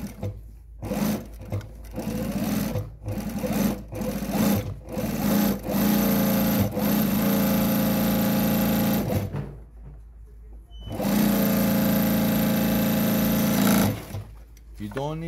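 A JUKI DNU-1541S industrial sewing machine fitted with a folder stitches fast in loud, steady whirring runs, starting with short bursts and broken by brief stops, close up.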